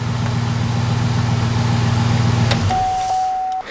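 Gasser car engine idling loudly through a huge new exhaust, a steady deep low rumble that shifts near the end as a high tone sounds alone.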